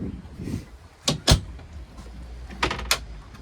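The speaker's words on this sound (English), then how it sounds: "you do also have the ability to close it off with this door here" A door on the windshield of a 2023 Sea Ray SLX 310 boat thumps shut with sharp knocks and clicks, close by, while someone talks around the sounds.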